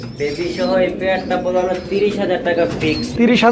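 Pigeons coo in soft, repeated throaty calls close by, while a person talks over them.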